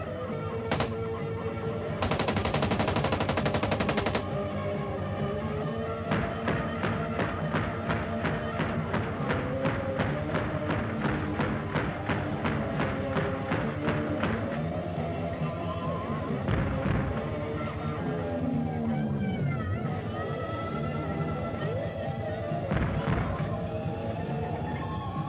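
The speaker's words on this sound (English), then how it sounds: "I got to shoot a machine gun" A machine gun fires automatic bursts outdoors, loud and close, with rapid strings of shots broken by pauses across a long stretch.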